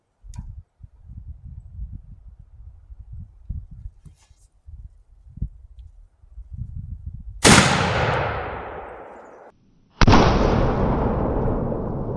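A muzzleloading gun fired outdoors after reloading with a ball and wadding, giving a loud, sharp blast with a long ringing decay, then a second equally loud report, after quiet low rumbling and handling noises.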